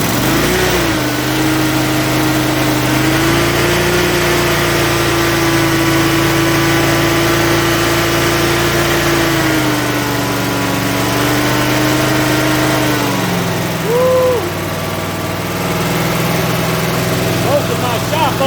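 Kohler SV720 small engine, just after a carburetor cleaning, running loud and close with a steady drone that dips and wavers in speed, then sags and picks back up.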